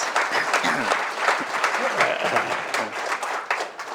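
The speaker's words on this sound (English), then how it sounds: "A round of applause" Audience applause at a speechwriting panel event, a steady dense wash of clapping filling the room for several seconds, with some voices mixed in beneath.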